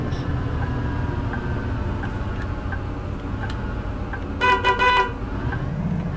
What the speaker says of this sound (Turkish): Evet kornamızı da duyduk.